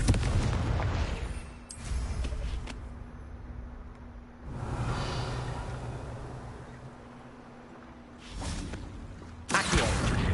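A fire-spell explosion from Hogwarts Legacy, heard as several booming bursts spaced across the stretch, with loud broadband blasts near the start, middle and end over a low steady hum.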